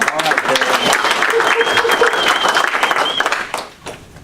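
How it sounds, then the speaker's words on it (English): An audience at an evening committee program applauds in a dense, steady wash of clapping that fades out near the end, with some voices mixed in. "let's give a round of applause."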